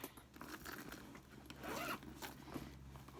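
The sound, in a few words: zipper pocket of a Coach bag being opened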